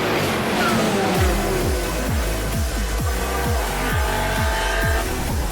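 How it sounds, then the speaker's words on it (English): Race cars roar past at the Zandvoort circuit during a Supercar Challenge race on a cold, blustery day, engines loud and close with repeated rising and falling gear-change pulls and a steady rumble throughout. "Down the inside in Supersport 1, Benjamin van der Berg brushes by Marcel van der Maat"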